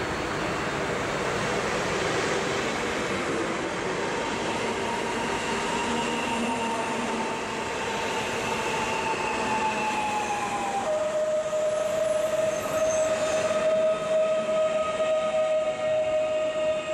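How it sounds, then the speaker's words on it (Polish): SKM commuter train on the Warsaw Chopin Airport to Radzymin service arriving at Warszawa Wola station, loud and close, with rolling wheels and a sustained high brake squeal that drops in pitch near the end. "A tymczasem wjeżdża SKMK z Warszawa, lotnisko Chopina do Radzymina."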